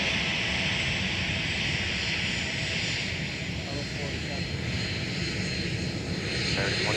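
A jet airliner roars loudly and steadily during takeoff at Minneapolis–St. Paul airport, its broad engine rumble and hiss sustained throughout with a faint radio voice beneath.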